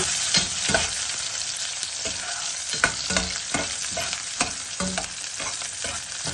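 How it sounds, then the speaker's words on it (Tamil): Green chillies sauté in hot oil for a dry fish and mango curry, with a steady, close sizzle and frequent sharp clicks and scrapes from stirring throughout. "பச்சை மிளகாய், வதக்கி"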